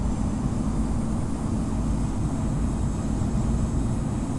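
An Etihad Airbus A380 in the Infinite Flight simulator takes off from Heathrow, a loud, steady broadband engine roar with a deep low rumble that holds constant throughout, with no voices over it.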